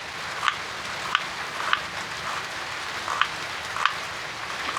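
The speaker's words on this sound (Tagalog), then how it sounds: "Tinuduhan pa po ng lakas ng ulan." Heavy storm rain falls at a small farm as a steady, fairly faint hiss, with a few sharper drop taps standing out at irregular intervals.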